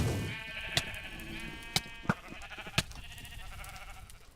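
A sheep bleats in the Minecraft modpack Feed The Beast, a clear nasal cry near the start, followed by several sharp hit sounds at a close, moderate level.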